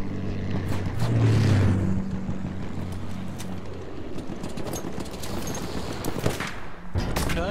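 Semi-automatic rifle fire in Battlefield 1 during a Conquest match, with a series of sharp shots crackling over a constant engine rumble and battle noise, plus a louder burst near the end; no speech.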